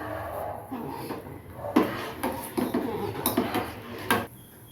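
Spoon stirring health-mix porridge with milk in a pot on the stove, a series of soft scraping and knocking contacts against the pot, fairly quiet and close, irregular in rhythm.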